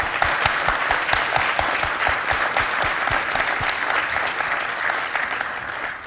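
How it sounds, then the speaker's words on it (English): Audience at a panel presentation applauds with dense, steady clapping that carries on for several seconds at moderate volume before beginning to thin out. "give them applause and a sign of our thanks"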